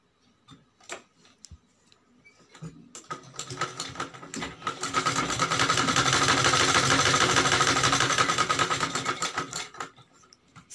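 A sewing machine stitches a choli blouse, running back over a fresh seam to strengthen it: scattered clicks and a brief start, then a loud, steady whirring run from about four to ten seconds, alone with no talk.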